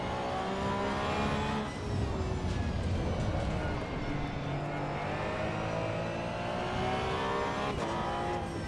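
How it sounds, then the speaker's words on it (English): A Porsche 992 in the racing game Assetto Corsa Evo drones loudly and steadily as the engine holds high revs, with the pitch easing and climbing through gear changes and faint tire noise, no talking. "No, we're driving the Porsche 992 now."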